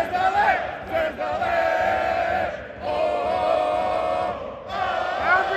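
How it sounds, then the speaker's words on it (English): A packed arena crowd at a Crvena Zvezda versus Valencia EuroLeague basketball game roars and chants loudly and continuously, with the chanting surging in waves. "Everybody's clapping."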